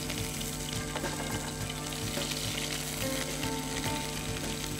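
Onions with biryani leaf sizzle and fry steadily in a hot pan, a dense continuous crackle with a faint repeating knock underneath, close and even throughout with no talking.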